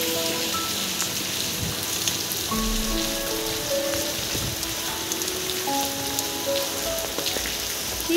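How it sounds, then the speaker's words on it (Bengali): Heavy rain pours steadily outside a home, a dense, unbroken patter and hiss that holds at an even level from start to finish, with no voices. "কি বৃষ্টি হচ্ছে"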